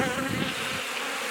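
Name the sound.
honey bees buzzing on hive frame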